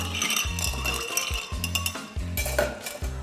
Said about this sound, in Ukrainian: На цей момент наш коктейль дуже концентрований, тому ми розмішуємо усі інгредієнти ось так приблизно.